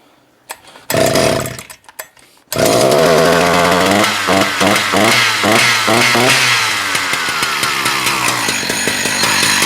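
A Husqvarna 268 chainsaw with a fault that makes it quit, sputtering through a couple of short bursts and then catching and running loud and close, its engine revving up and down in rapid pulses before settling to a steady roar.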